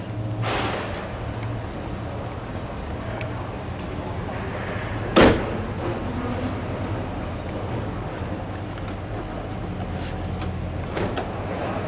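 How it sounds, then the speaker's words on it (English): A 2008 Ford Mustang Shelby GT hood slams shut with one solid thud, standing out from a steady background rumble. "We'll close that hood."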